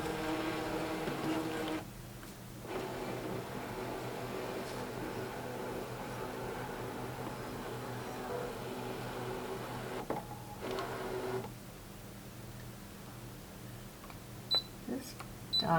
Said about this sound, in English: We'll do a background scan now of our